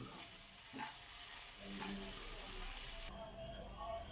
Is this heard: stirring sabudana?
yes